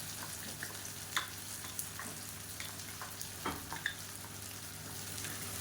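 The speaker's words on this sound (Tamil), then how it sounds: "இந்த எண்ணெயில் வந்து நல்லா ரோஸ்ட் ஆக்கிக்கலாம்" Raw plantain pieces fry steadily in oil with a ground spice powder added, a continuous close sizzle with occasional light scrapes and clicks of a spoon stirring through the pan.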